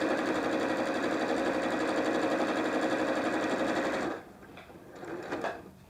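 A sewing machine runs steadily, close and loud, stitching a quilt block seam with 50-weight Aurifil thread, then stops abruptly; faint handling noises follow.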